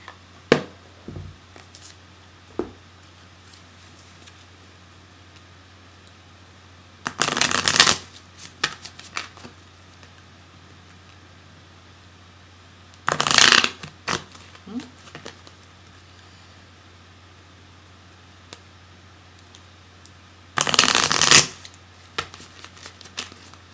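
Shamanic healing oracle cards being shuffled, three distinct riffling bursts of a few seconds each spaced several seconds apart, close and crisp, with quiet room tone and faint handling noises between them.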